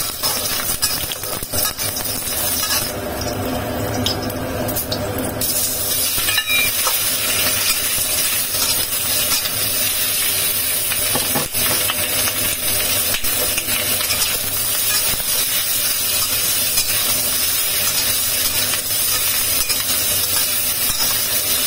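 Sliced ginger and garlic dropped into hot oil in a wok, a loud, steady crackling sizzle with scattered pops and clinks from stirring, continuing unbroken with no talking.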